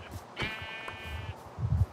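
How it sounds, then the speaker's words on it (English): Sheep bleating in the video game Minecraft: a single nasal, wavering bleat lasting about a second, fairly close, followed by a soft low rumble. "Sheep? Oh, is that another mob?"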